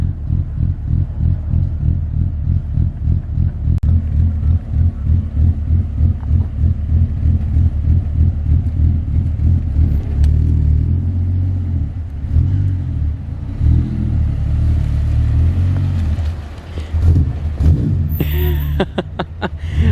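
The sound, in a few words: Ford Falcon FG Turbo engine with ghost cam idling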